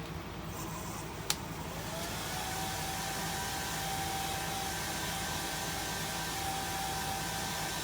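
A hair dryer blows steadily on wet green paint coating a vase, a continuous close whooshing hum with a faint higher whine, holding an even level throughout after a brief click near the start.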